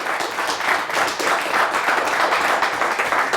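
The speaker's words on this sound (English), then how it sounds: "Big round of applause for Linden as Linden moves on in overtime." Brief burst of audience applause at a high school quiz show competition, a few seconds of moderately loud, steady clapping from a small crowd.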